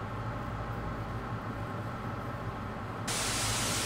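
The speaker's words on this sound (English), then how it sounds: "White noise." Video game white noise: a flat, steady broadband hiss that grows brighter and harsher in the final second, with no voices.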